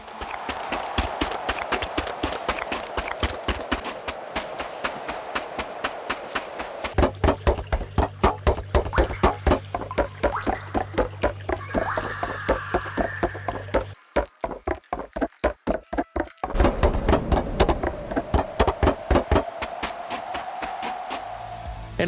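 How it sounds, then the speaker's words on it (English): Rapid footsteps in the game Nuclear Throne, changing character as the walking surface changes: a quick, steady patter of close steps running throughout, shifting in tone midway, with a low droning hum under part of the sequence and no talking. "they have added footstep sounds to the game. And not only that, it's material specific footstep sounds"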